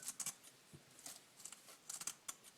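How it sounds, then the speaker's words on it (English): Scissors snipping yarrow leaves and stems in a large bowl, a scattered series of quiet, crisp cuts with short pauses between them, close up. "I'm just going to hold it down in there and just cut it up."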